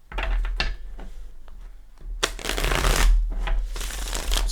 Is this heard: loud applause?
no